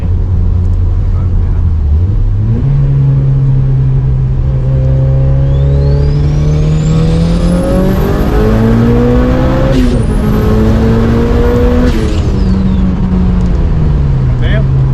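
Mitsubishi Evo with a new exhaust and downpipe revving hard up close, a loud continuous engine roar that climbs in pitch through several rises and drops, with voices talking over it.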